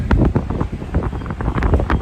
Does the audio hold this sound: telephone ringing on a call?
no